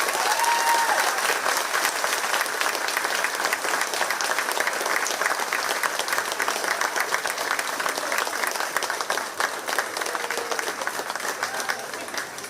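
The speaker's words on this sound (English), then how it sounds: "please give a round of applause to these lovely young ladies" Sustained applause from a county fair audience honoring the fair queen contestants, a steady dense wash of many hands clapping at fairly close range for the whole stretch, with no pause.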